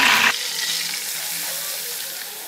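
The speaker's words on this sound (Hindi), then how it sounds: "अब हम इसके अंदर सूजी ऐड करेंगे।" Semolina poured into a hot pan for sooji barfi, giving a loud sizzling hiss right at the start that settles into a steady softer frying crackle for a couple of seconds.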